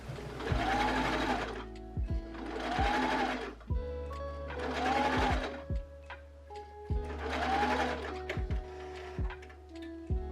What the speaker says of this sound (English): As I'm getting more shirring, I'm stretching out the fabric before I sew.